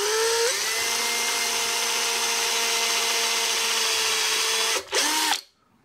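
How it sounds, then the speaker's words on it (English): Battery drill boring an oil hole in metal on a powered lathe slotter build, a loud steady high whine that shifts pitch as it starts, runs evenly, dips briefly near the end, surges again and then cuts off; no talking. "I'm just going to use my battery drill, push it in hard with my fingers and then just drill through"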